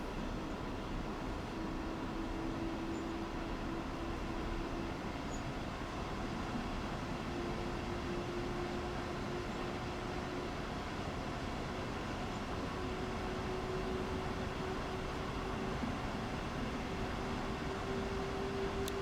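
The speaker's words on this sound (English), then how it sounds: "Actually sounds quite good as well for an electric train." An electric train running on the Hamburg to Lübeck line in the Train Sim World 2 video game, a steady, even rumble of wheels and motor with a faint rising whine, continuous and close.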